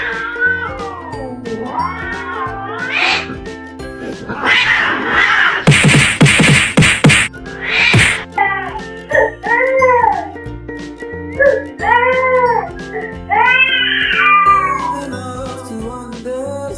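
A cat charging in to protect a little girl who was knocked down by a dog, with repeated loud, wavering meows and caterwauls over music, a harsh hissing burst in the middle, and no talk.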